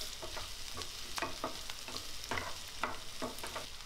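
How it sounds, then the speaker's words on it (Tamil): Roughly chopped onions sautéing in oil in a pan, a soft constant sizzle under repeated rhythmic spatula scrapes and stirs, close and fairly quiet, with no talking. "வெங்காயம் லைட்டாக டிரான்ஸ்பரண்ட் ஆகிற வரைக்கும் வதக்கி விட்டுடலாம்"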